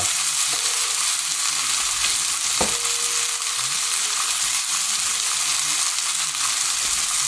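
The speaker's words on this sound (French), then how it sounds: "Là on va ajouter les champignons coupés en gros carrés" Mushroom pieces frying in a pan for a rabbit chasseur, a constant bright sizzle with a few clinks of a utensil stirring, close and steady with no talk.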